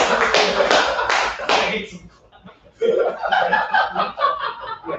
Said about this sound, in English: Yeah, you guys can clap.